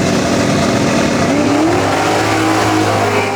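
Two Holden muscle cars, a Torana and a VK, launch side by side in a drag race, a loud sustained engine roar under full acceleration that stays steady and close throughout.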